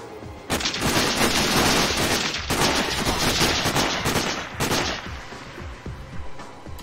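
Loud, dense gunfire in Sniper: Ghost Warrior, rapid shots packed into sustained bursts with sharp cracks and booming echoes, a brief lull midway before more shooting that tapers off.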